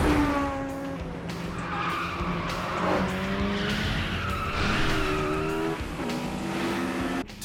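Racing car tires squealing and skidding hard through corners during a street race, a loud, sustained screech with rising and falling engine whine, no voices.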